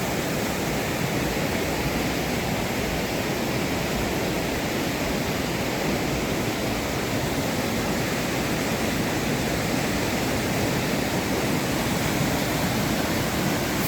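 The Saint-Charles river waterfall in a Quebec canyon roars in a broad, unbroken rush of falling water with strong flow, steady and loud from start to finish, with no voices.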